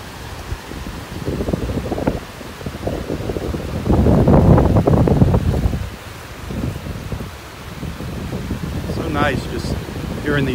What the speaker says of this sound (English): Nice just hearing these waves.